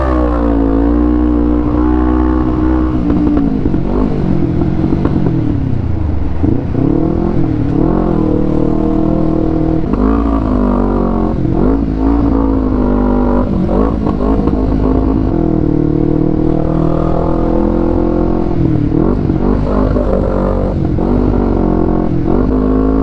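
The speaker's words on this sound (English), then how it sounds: "Cars like this just wanting to cross over." Traffic on a busy street in a farming-region city, engines droning and rising as vehicles pass and accelerate nearby, a continuous loud rumble with shifting engine tones and no pauses.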